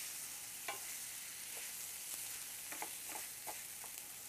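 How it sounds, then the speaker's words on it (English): Rice stirred and toasted in hot oil in a pan, a steady quiet sizzle punctuated by several soft scrapes and clicks of the spoon, with no talking. "We want to toast that rice around to coat it with the oil."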